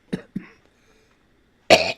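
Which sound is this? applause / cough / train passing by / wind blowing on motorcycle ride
cough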